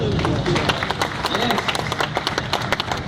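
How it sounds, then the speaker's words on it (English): An audience claps steadily for Honda's Asimo robot, a dense crowd applause with sharp individual claps standing out, loud and close, with some voices mixed in. "Big round of applause, please, everyone"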